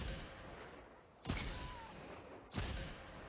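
Two heavy Thorn hand cannon shots from Destiny 2 PvP, about a second apart, each a sharp broadband crack with a short tail over a low background hum.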